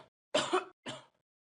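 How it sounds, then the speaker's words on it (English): Two short, harsh coughs from a single person, close and clear, separated by a brief pause, with silence around them. "What coughing?"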